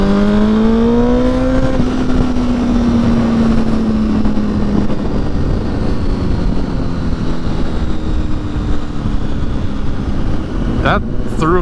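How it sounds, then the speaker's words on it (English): Motorcycle with a sidecar passes close by, its engine tone sliding downward as it goes and fading into a loud, steady rumble. "The guy had a full sidecar."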